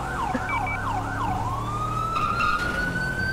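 A police patrol car siren in a GTA roleplay game wails up and down in a fast cycle, then settles into a long rising tone, loud and close over a rumbling engine.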